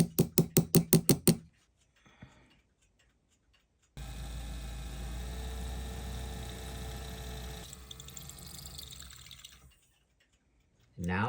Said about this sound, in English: Center punch the hole locations.